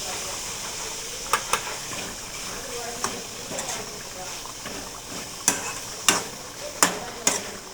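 Ground masala stirred into cooked chicken in a pan: a steady hiss of steam and sizzle, with several sharp scraping knocks of a spoon against the pan.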